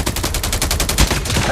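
Rapid automatic gunfire in the Call of Duty Mobile video game, a dense burst of repeated shots running steadily through the whole moment at close range with no talk.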